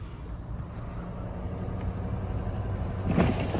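A four-wheel-drive truck climbs a snowy hill, its engine a low, steady rumble heard from inside the cab, with a brief thump near the end.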